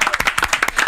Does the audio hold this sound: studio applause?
yes